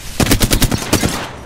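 Rapid burst of automatic gunfire in a battle royale shooter game, about eight sharp shots in quick succession within a second, loud and close with no talk.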